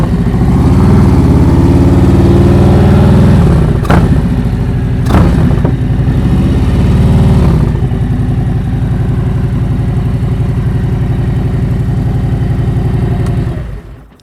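A motorcycle in first gear rolls slowly to a stop, its engine loud and close with a steady mid-pitched drone that eases off, a couple of brief clicks along the way, then cuts out at the end.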